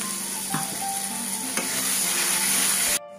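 Ground chili, coriander and Kashmiri chili powder sizzle steadily in a pan with a splash of water, a continuous close hiss with a few small spoon knocks, cutting off abruptly near the end.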